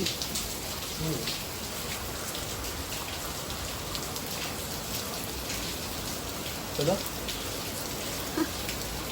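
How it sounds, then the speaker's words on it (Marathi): Heavy monsoon rain pours in Mumbai at night, heard from a gallery as a dense, even hiss of drops beating on surfaces, moderately close and continuous, with a couple of faint bird coos and brief murmurs rising over it. "पावसाची स्पीड वाढली"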